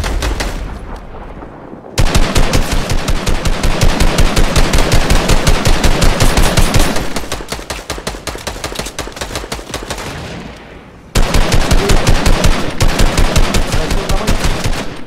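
Rapid automatic gunfire in the video game Fortnite, loud bursts of fast repeated shots in several long strings with short pauses between them, no voices over it.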